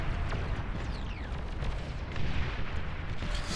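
Repeated LOL cannon artillery fire in the strategy game Beyond All Reason, a dense barrage of heavy booms and rumbling impacts rolling on continuously at a steady, loud level with no voices.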